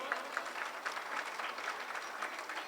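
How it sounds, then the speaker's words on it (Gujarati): Steady applause from an audience at a Republic Day gathering at Madhavanand Ashram in Surat: dense, even clapping that holds at a moderate, slightly distant level throughout, with no speech. "તાળીઓથી અભિવાદન કરો."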